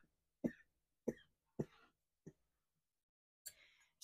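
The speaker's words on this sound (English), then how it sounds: "Excuse me as I cough again." Several dry coughs with pauses between them, four spaced over the first two seconds and another burst near the end, close to the microphone in an otherwise quiet indoor setting.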